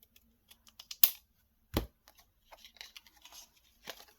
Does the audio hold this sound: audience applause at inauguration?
no